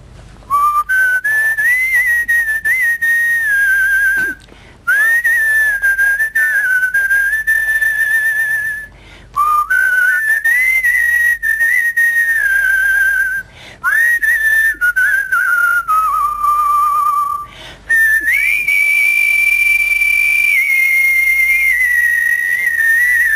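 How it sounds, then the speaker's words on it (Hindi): People whistle an old Hindi film melody clearly and tunefully in long sustained phrases broken by short pauses, loud and close, with no talking. "आप लोग इतनी सुरीली सीटियां बजाते हैं"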